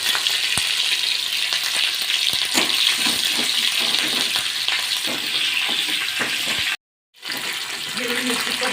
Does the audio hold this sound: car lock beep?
no